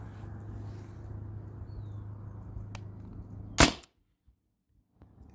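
A modified T4E TR68 paintball marker running on a fully pressurized CO2 tank fires one heavy aluminum ball, a single sharp, loud crack over a steady low hum, followed by near silence.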